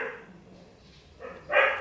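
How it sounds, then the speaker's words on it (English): A pet dog at home barks a few times in short bursts, fairly close and loud, with the last bark the strongest. "My dog keeps barking because someone's eating."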